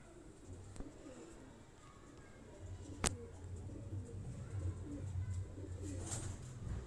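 Pigeons cooing on a rooftop loft in Rawalpindi, soft low coos repeating rhythmically at moderate distance, with a single sharp click partway through and quiet background ambience.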